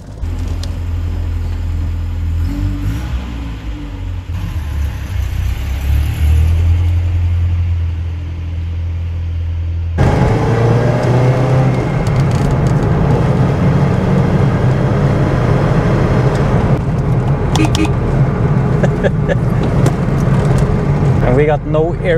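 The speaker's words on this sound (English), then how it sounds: "Right guys, let's take this car for a little spin." A classic JDM car driving, its engine rumbling low and steady with a louder, fuller drone after about ten seconds, while a person talks over it.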